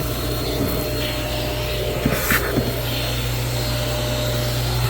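A Sweep O vac shop vacuum runs with a steady, loud motor drone, while a few short clicks and rattles of debris being sucked up break through near the middle.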